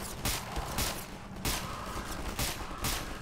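Gunfire from a gun in the Garry's Mod video game: about six repeated bursts of shots over a dense, noisy game soundscape, with a steady pulsing rhythm.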